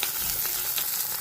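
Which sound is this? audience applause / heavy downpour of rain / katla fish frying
katla fish frying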